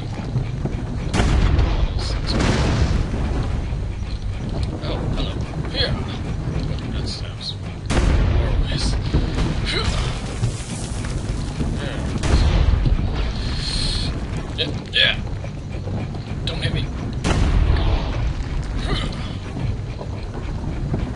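Heavy cannon blasts boom from a ship in Assassin's Creed: Brotherhood, several deep thumps spaced a few seconds apart over constant wind and water rumble, with a voice talking now and then.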